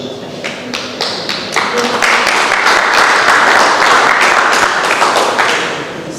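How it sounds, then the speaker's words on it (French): A seated audience at an education sciences colloquium claps, starting with a few scattered hands and building into dense, sustained applause that holds steady, then thins slightly at the end. "Ils applaudissent"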